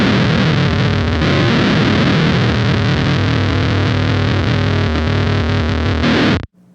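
Heavily distorted electric guitar runs through a Beetronics Whoctahell low octave pedal, a thick, chaotic wall of fuzz with a growling octave-down layer, loud and sustained until it cuts out abruptly near the end.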